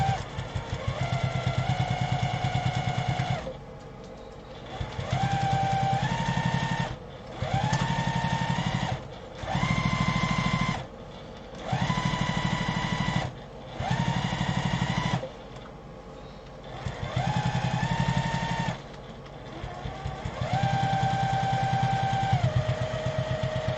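A sewing machine with a zipper foot top-stitches a fabric briefcase in repeated whirring runs of a few seconds each, separated by short pauses, close and fairly loud.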